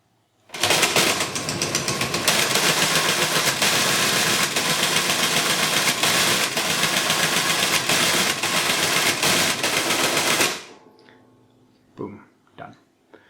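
A Cellatron R44 SM mechanical calculator works through a division with a loud, dense mechanical chatter that runs steadily for about ten seconds, then stops abruptly, followed by a few soft clicks and handling sounds.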